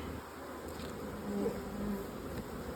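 Honeybees hum steadily around hives opened for mite testing, a continuous close buzz with individual bees swelling louder as they pass near.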